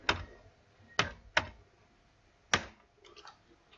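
Sparse, distinct clicks of keys struck one at a time on a computer keyboard while DOS commands are typed: four or five sharp taps with pauses between them, near and fairly loud in a quiet room.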